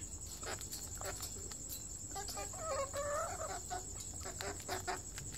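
An old hen clucks softly and intermittently while pecking at herbs and mint outdoors, with crickets chirping steadily in the background.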